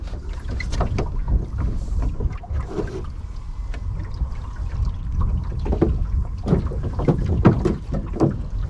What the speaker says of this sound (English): We're going to do some broad reaching and see what this boat can do, even if it is quite light winds.